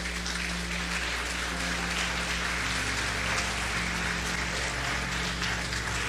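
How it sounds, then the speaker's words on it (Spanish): Steady applause from a church congregation fills the space evenly from start to finish, heard at moderate distance under a constant low hum. "denle un fuerte aplauso a esa sierva"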